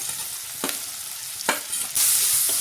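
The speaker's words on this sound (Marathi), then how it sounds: "आता बघा कांदा छान असा परतला गेलेला आहे आपला" Chopped onion sautés in hot oil with a constant sizzle, marked by two or three sharp scraping stirs, and the hiss swells louder toward the end.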